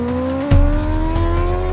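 A motorcycle speeds away, a loud engine whose pitch rises steadily after a sharp burst of throttle, close at first and holding strong through the short stretch.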